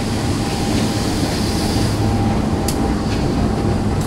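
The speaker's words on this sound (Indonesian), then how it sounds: "Kereta Api Dharma Wangsa bagi hari ini CC 201-8307 Depo Madiun" Dharmawangsa passenger train hauled by CC 201 locomotive 201-8307 of Depo Madiun, heard from inside a carriage as a steady, loud roar of wheels and running noise, with no voices.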